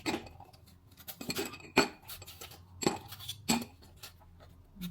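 Ice cubes are fetched for an iced matcha drink, giving several sharp, irregular clinks and clatters against glass or metal close by, with quiet gaps between them and no speech.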